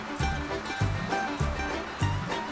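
Ocean waves in the sailing game Sailwind wash in four regular surges about half a second apart, each a loud low rush that fades into hiss.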